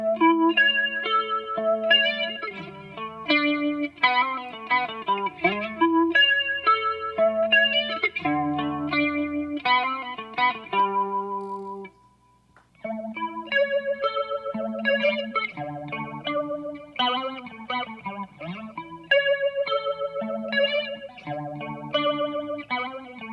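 Electric guitar through a flanger pedal for an indie lead tone, with swirling, sweeping notes over a picked melodic line; loud and continuous, with a short gap midway.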